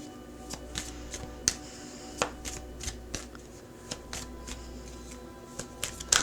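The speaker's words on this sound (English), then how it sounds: "let's pull some advice and guidance cards" Tarot cards being shuffled by hand: a steady papery riffle with sharp snapping flicks scattered irregularly throughout, close and fairly quiet, with no talking.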